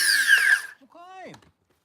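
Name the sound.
power tool deburring the end of plastic pipe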